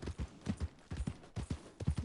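Hooves of a horse in Red Dead Redemption 2 clop in a quick, even rhythm, soft and fairly close, with no other sounds.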